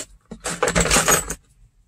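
Loose keys jangle and clink as they are handled while the interior of a 1962 Mercury Comet is being gutted, a close, bright metallic rattle lasting about a second with no talking.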